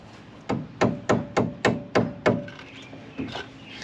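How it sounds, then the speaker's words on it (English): Seven sharp, evenly spaced hammer strikes on metal ring out close by during brake caliper work on a Dodge 1500 van, followed by two softer taps after a short pause. "Take a hammer."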